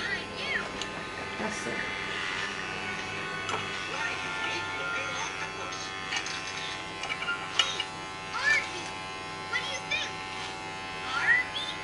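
Electric hair clippers buzz steadily and close up while trimming a young boy's hair into a mohawk at home, with faint ticks and short bursts of an adult voice and a voice over the hum.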